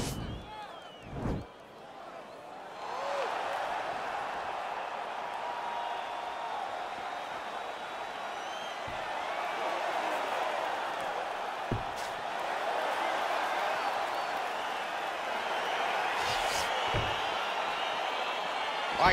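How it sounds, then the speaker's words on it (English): A video game arena crowd in UFC 4 on PS5 cheers for a featherweight fight, a sustained roar that swells steadily after a few sharp thuds at the start, with occasional slams and whoops above it. "crowd getting excited as this fight gets underway"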